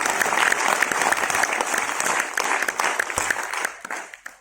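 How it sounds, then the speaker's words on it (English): A crowd at an NCC girls' cycle rally event applauds para cyclist Geeta S Rao with a loud, sustained round of clapping that fades out over the last second. "give a large round of applause for Geeta"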